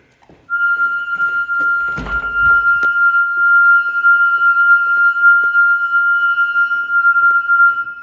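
A Siemens Cerberus Pro Modular fire alarm sounds during a building bell test, producing a loud, steady, unbroken tone with a brief thudding knock early on.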